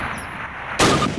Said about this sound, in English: Turn to the left, move to the fence, and fire 2 rounds at your target.